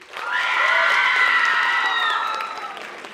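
Students in their final year of secondary school applaud and cheer at a comedy show, a loud burst of clapping mixed with whoops and shouted voices that swells, holds, then fades.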